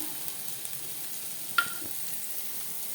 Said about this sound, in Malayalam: നന്നായി ഒന്ന് ചെറുതായി ഒന്ന് ബ്രൗണിഷ് കളർ വരട്ടെ, അതുവരെ ഒന്ന് വഴറ്റി കൊടുക്കുക.